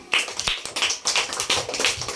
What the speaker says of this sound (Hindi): तालियां बजा दो फिर।